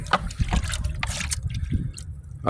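Water draining out of a hot water heater drain pan along with sediment from the bottom, splashing and trickling steadily for a couple of seconds at close range, with a brief knock near the end.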